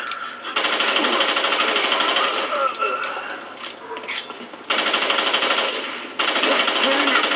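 Rapid automatic gunfire in the video game Fear 3, loud and sustained in long dense bursts with a few brief pauses between them.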